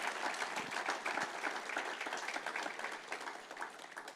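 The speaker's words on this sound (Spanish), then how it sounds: "Dale el aplauso al Señor en alabanza." A church congregation applauds in praise, a dense, steady wash of many hands clapping at moderate volume for several seconds.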